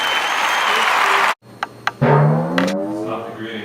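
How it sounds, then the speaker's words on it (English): Audience applause greeting a talk show guest, a loud dense burst of clapping that cuts off abruptly partway through, followed by brief clicks and a low tonal sound. "may we have a huge round of applause for Mr."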